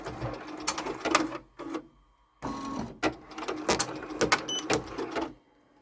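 A Ricoma EM1010 embroidery machine stitching eyes into a design, with rapid mechanical needle clatter that comes in bursts and stops briefly, heard close and fairly quiet.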